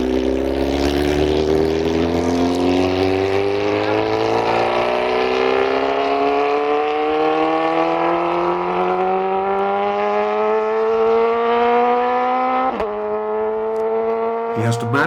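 Flying Kiwi 2 land speed vehicle starting its record run on the Bonneville salt flats, a loud engine roar climbing steadily in pitch as it accelerates and pulls away, with brief gear-change dips near the end.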